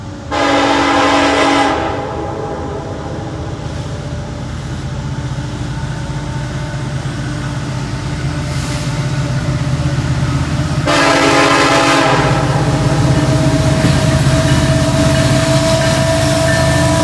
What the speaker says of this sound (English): Looks like it might be a grain train.